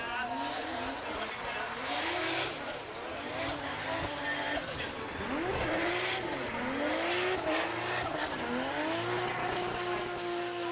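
Drift car number 168 swings through the first corner at Sportsland Sugo during Formula DRIFT Japan qualifying, its engine revving and wavering up and down with tire squeal, loud and continuous, while a commentator talks over it.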